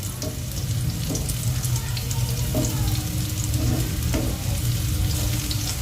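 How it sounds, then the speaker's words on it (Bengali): Oats tikki fry in a pan of oil with a continuous, even sizzle close by, broken by a few soft scraping knocks. "তেল কমে গেলে আরেকটু তেল দিয়ে ভালো করে ভেজে নেবেন"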